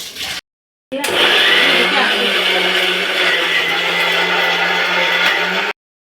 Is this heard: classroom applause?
no